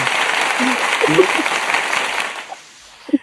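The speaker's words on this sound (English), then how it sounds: "Let's give herself an applause" A small group on a morning television show claps briefly, with voices murmuring over it, before the applause dies out into near silence with a couple of short bumps.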